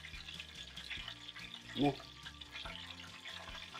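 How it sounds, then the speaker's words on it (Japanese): Horse mackerel deep frying in oil at about 180 degrees, a steady bubbling sizzle with a brief louder burst of crackle midway, a voice speaking faintly over it. "パチパチパチってさ、音がしますよね"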